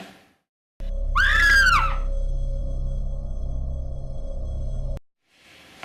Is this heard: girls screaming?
yes